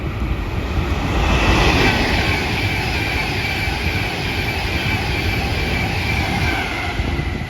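A freight train bound for Daventry from Dollands Moor rolls past with a broad, continuous rumble and rushing roar, loud and steady throughout with some wind buffeting the microphone.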